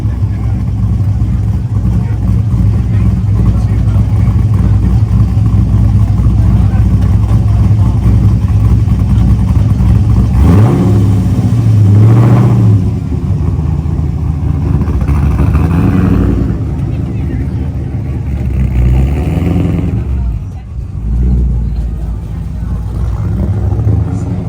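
A BMW with an LS V8 swap revs at a car meet, with a loud throaty engine drone and rising revs near the middle, amid crowd noise and people talking.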